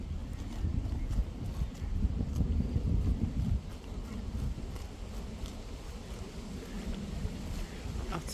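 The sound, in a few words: cows trotting and running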